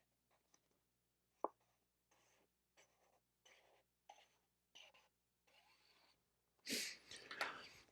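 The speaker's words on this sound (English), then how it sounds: "I'm drawing these little squares in to represent" Pen drawing small squares on paper, heard as short separate bursts of scratching with pauses between them. A louder rustle closes the sequence, and no one talks over it.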